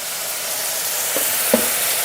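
Tomatoes with about three-quarters of a teaspoon of salt fry in a pan for aloo shimla mirch sabzi, giving a steady, loud sizzle with a couple of soft stirring taps.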